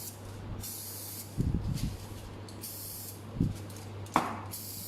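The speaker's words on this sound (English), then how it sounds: "This is the spray, you can use it out." Several short hissing bursts from an aerosol cooking spray can sprayed into a mold, separated by pauses, with a few soft knocks and a low hum underneath.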